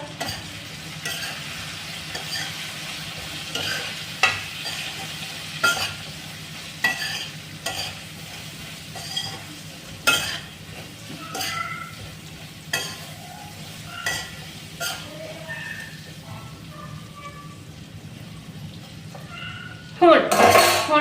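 Jackfruit curry with turmeric is stirred in a frying pan, soft sizzling under repeated scraping and clinking of a spoon against the pan, with a louder clatter at the end; a voice talks faintly at times.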